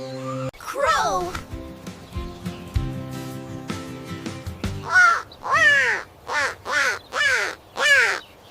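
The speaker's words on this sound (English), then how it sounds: "Crow." A crow caws repeatedly, beginning with one harsh call and ending in a run of about six loud, evenly spaced caws, close and clear with no talking.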